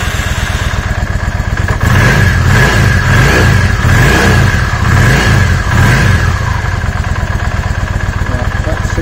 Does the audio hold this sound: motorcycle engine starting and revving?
yes